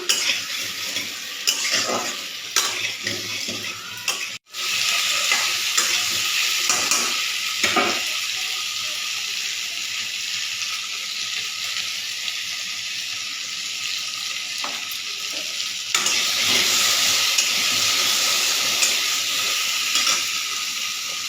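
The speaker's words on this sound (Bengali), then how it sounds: "নুন হলুদ দিয়ে লালচে করে ভেজে নিচ্ছি কচুগুলো" Taro pieces with salt and turmeric fry in hot oil in a wok, giving a steady, loud sizzle. Occasional spatula scrapes and clinks break through, and there is one short pause near the start.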